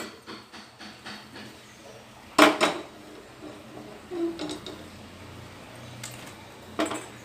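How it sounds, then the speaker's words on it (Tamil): Metal cookware clatters near a stove: a loud clank as a wok is set down, then scattered lighter knocks and scrapes of pots in a quiet room. "ஸ்டவ் ஆன் பண்ணி வாணலி வச்சுக்கலாம்"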